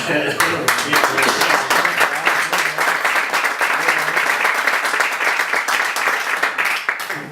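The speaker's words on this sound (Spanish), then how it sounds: "damos un aplauso" An audience at a presentation event in Burujón, Toledo, breaks into sustained applause, with many hands clapping loudly under voices that talk over it.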